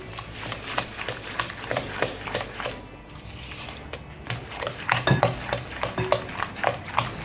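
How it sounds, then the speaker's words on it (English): A utensil scrapes and clinks rhythmically against a bowl while banana bread batter with sugar and salt is mixed, the steady strokes close and moderately loud, with no talk. "So now I'm going to mix everything."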